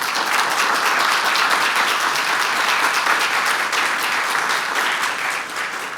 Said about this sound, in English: let's give a round of applause for our panelists up here